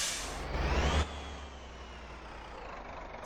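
A truck's air brake releases a sharp hiss in MotorTown, a single loud burst lasting about a second, followed by a quieter idling engine rumble.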